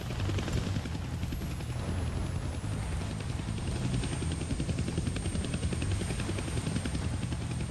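A chopper in the Deadpool PS4 video game drones loudly and steadily, its rotor thrum and engine roar filling every moment without a break, close and alone with no talk.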